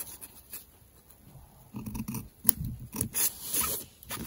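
Scissors snip through paper card while trimming the edges of a handmade 3D Christmas greeting card, with a few close crisp cuts and rustling paper.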